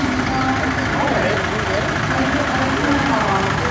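A restored 1954 Super MTA tractor engine runs steadily during a parade, a continuous low rumbling drone under nearby talk.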